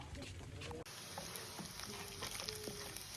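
Dried anchovies (dilis) fry in a wok with a steady, soft sizzle and crackle. Occasional stirring clinks sound through it.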